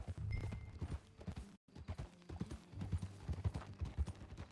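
Horse hooves clip-clop in a steady galloping rhythm while riding in Red Dead Redemption 2, with tack jingling and soft game sounds, moderately quiet and unbroken apart from a brief dropout.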